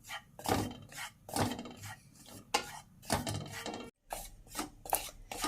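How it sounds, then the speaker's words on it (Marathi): Besan (gram flour) stirred in a pan for chili stuffing, a utensil scraping and rubbing in a steady repeated rhythm of soft strokes, close and fairly quiet, with a brief pause midway. "हलवतच राहायचं आहे नाहीतर बेसन बुडायला लागू शकतं"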